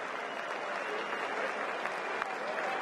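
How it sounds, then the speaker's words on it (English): Cricket Test match crowd applauding after a six-wicket bowling spell, a steady dense wash of clapping from a large distant stadium audience, fairly faint and continuous for the whole stretch. "quite rightly does Trent Boult get the applause"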